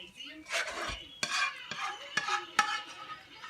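A utensil scrapes and spreads the last of a meat sauce over a tortilla layer in a baking dish, making several close, distinct scraping strokes with soft clinks in between and no voices.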